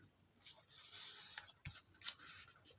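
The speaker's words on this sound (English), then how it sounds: "I will cut the edges on this." Scissors cutting the edges of old book pages, a few soft snips and papery rustles, quiet and close.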